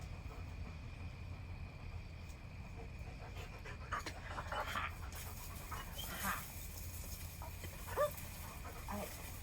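A dog pants rhythmically and continuously at close range, with quick breaths over a low background hum and a few faint whimpers and bumps.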